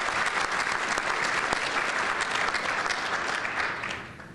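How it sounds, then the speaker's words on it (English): Sustained round of applause from a dinner audience at a community awards evening, many hands clapping densely and evenly at moderate loudness before tapering off slightly at the end. "let's give them a round of applause in absentia"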